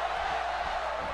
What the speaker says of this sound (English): Crowd singing for Sammy.